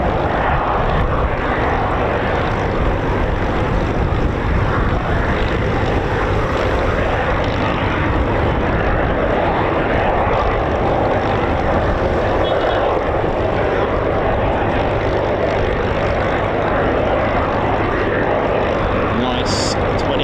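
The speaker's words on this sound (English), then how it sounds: "Nice 27-litre Merlin 45. Rolls-Royce power up" A Spitfire with a 27-litre Rolls-Royce Merlin 45 engine rumbles steadily overhead in a flypast, a loud continuous propeller drone that holds throughout with crowd noise mixed in.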